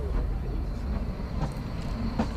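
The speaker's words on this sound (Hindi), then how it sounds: "अब ये ट्रेन कालका से शिमला के लिए निकल चुकी है।" Kalka–Shimla narrow gauge toy train pulling out on its 2 ft 6 in track, a steady low rumble of running rail cars with faint periodic clicks, continuous and fairly loud.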